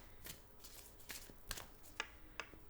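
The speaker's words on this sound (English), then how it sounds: "So let's get a few more shuffles here." A deck of tarot cards is shuffled, with faint, close riffles and several soft, sharp snaps at irregular intervals over quiet room noise.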